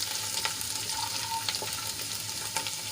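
Chopped garlic cloves sauté in oil for a methi-papad curry, giving a steady close frying hiss with faint stirring clicks running throughout.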